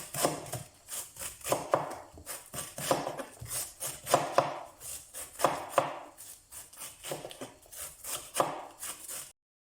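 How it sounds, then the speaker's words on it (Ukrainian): Cabbage is shredded with a knife on a board in quick, irregular bursts of crisp cutting strokes, close and fairly quiet, ending abruptly. "Спочатку шинкуємо капусту."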